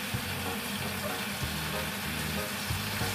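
Fish grilling on a Teflon non-stick pan at home, giving a steady broadband sizzle throughout with low rhythmic thumps underneath, close and fairly even in level.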